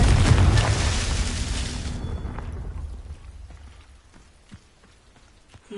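A Confringo fire spell blasts in Hogwarts Legacy, a loud, dense fiery boom with crackling debris that rolls on for about two seconds before fading into quiet scattered crackles and faint ticks.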